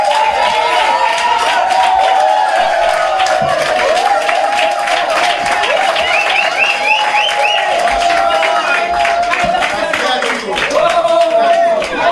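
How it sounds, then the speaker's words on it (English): A large crowd at an outdoor political rally claps and cheers loudly and steadily, while an amplified voice talks over the applause throughout. "another round of applause for our next parliamentary representative for Castries Central, Rush Clark"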